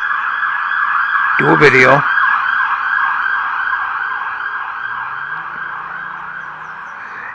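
A wailing emergency siren cycles steadily at moderate distance throughout, with someone briefly talking over it.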